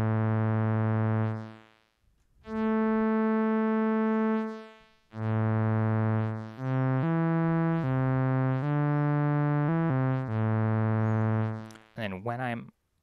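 Eurorack synthesizer voice with a static filter cutoff and no envelope modulation: loud, steady buzzy harmonic tones in a sequence of held and shifting pitches with brief gaps, ending in a short glitchy burst.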